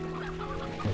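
Chickens cluck in the game Slime Rancher, a brief, close burst of clucking layered over a steady humming game soundtrack.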